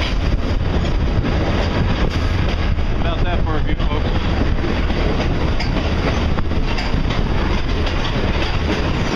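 Loud, continuous rumble of a moving passenger train in Copper Canyon, heard from an open car between coaches, with wind buffeting the microphone and occasional clicking from the rails.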